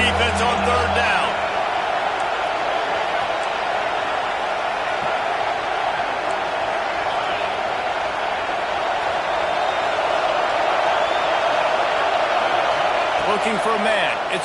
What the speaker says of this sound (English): Decibels rising as the crowd gets behind this defense on third down